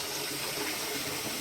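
Running tap water splashes steadily over a sink drain trap being rinsed clean, a continuous broadband gush close by with no talking.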